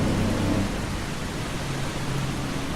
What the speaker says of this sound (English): here we are, and it's raining.